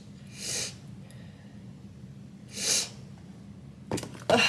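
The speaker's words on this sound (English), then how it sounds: "I have to sneeze" A person sneezes at home in a kitchen while making a smoothie: two soft, breathy bursts a couple of seconds apart, followed by a few brief clattering knocks.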